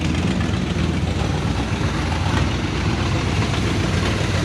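An old engine, a '75 K10, idles on choke while warming up, giving a steady, continuous low rumble that stays even and close throughout with no voices.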